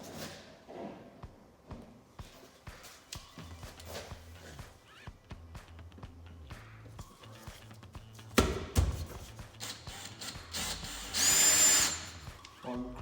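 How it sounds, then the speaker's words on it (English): A power drill bores holes while a CAE quick shifter is fitted to a Vauxhall Corsa VXR. Scattered clicks and knocks lead to short drilling bursts, then a louder, high, whining run near the end. "One drill."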